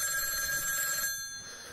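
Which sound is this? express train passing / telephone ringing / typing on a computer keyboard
telephone ringing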